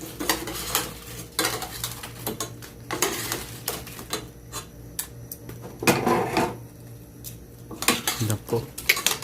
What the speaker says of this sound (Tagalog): I-mix natin hanggang ma-absorb niya yung sauce.